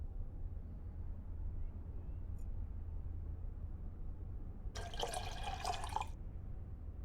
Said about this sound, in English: You can only put distilled water in it.